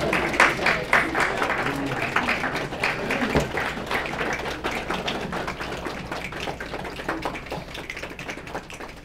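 Lecture audience imitates rain with claps and finger taps, a pattering texture of many small hand sounds, louder bursts at first settling into softer, quicker tapping, with faint voices underneath.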